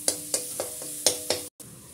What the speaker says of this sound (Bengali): এখন আমি পেঁয়াজটা ভালো করে ভেজে নেব।